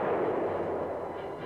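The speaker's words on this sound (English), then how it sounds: "the tanks meet heavy fire from enemy tanks" Heavy tank and anti-tank gunfire in a battle involving M60 Patton tanks, heard as a dense, sustained rumbling roar of fire, loud and without talk.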